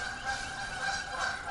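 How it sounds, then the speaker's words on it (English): Geese honk repeatedly as they fly overhead along Potter's Bridge Trail, a noisy chorus of calls drifting by at a moderate distance over a steady outdoor background. "geese are flying over and being very noisy"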